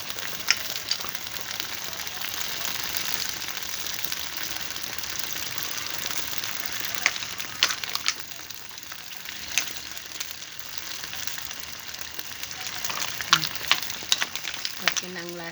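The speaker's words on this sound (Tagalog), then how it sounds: "magpipirito tayo ng isdang tilapia para hapunan natin" Tilapia sizzles and crackles in hot oil in a pan, a continuous loud hiss with scattered pops and spatters throughout, and occasional faint utensil clicks.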